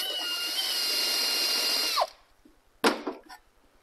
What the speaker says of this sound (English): we got the angle iron drilled out here